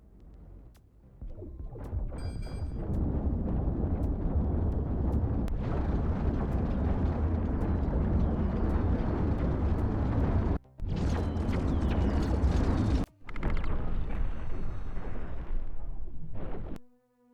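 Video game explosions destroying an enemy ship in a space conquest game, a long roaring rumble of blasts with a couple of sudden cutoffs and bursts, loud and dense with no talk.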